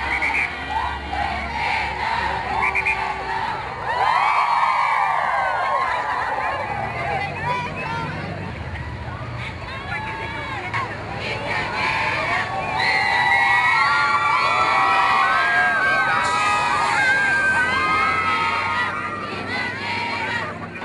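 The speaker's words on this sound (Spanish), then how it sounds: "se escucharon gritos y porras" A large crowd shouts and cheers outside the Auditorio Nacional on Paseo de la Reforma in Mexico City during a quinceañera group procession, with sustained loud, dense whoops and yells alongside chatter throughout.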